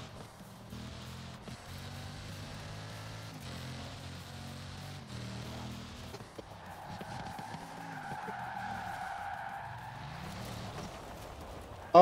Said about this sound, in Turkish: Abi bu da drift atıyor ya